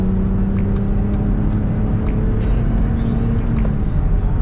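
A 23-year-old BMW Z3 accelerates on a highway, its engine droning loud and steady from start to finish with a rising tone and road rumble beneath, no talking.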